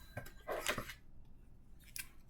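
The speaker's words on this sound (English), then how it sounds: "I'm going to take my print. I'm going to cut it out." Close-up scissors snip through a paper print in a few quick crisp cuts, followed by a pause and one more short snip.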